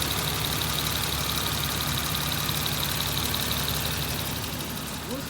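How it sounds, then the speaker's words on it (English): The V12 engine of a 1996 Jaguar XJ12 idles steadily and smoothly, a continuous even hum with a faint whine above it and no talking. "Idling, nice and smooth."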